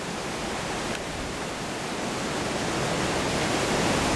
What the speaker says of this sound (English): My mom likes this waterfall because it has this nice wandering brook